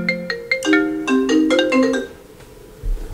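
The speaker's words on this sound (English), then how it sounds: "Phone's ringing." A phone ringtone plays a quick melodic run of bright tones for about two seconds, loud and close, then cuts off before a low thump near the end.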